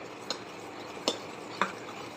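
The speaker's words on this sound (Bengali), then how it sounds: "এটা ভালো করে নাড়তে থাকি" A spoon scrapes and taps in a pan as a mango rasbora mixture is stirred, three soft clinks spaced through a quiet, faint background.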